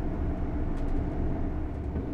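A train in the Train Sim World 4 video game gathers speed with a low, steady rumble and hum of rolling wheels and motor, continuous and even throughout with no talk.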